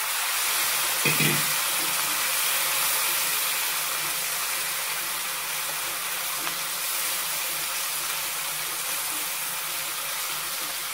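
Drumstick leaves are tipped into a cooking pot together with their soaking water while a buttermilk curry is made, giving a steady, soft, hissing pour that runs alone for about eleven seconds.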